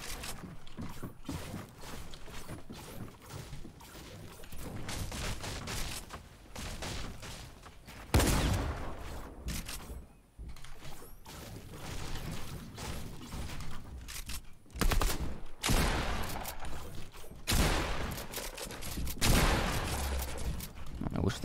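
Bursts of gunfire in the battle royale game Fortnite, with a sniper shot and spread-out volleys across the clip and louder bursts near the end, under game noise and a player's voice.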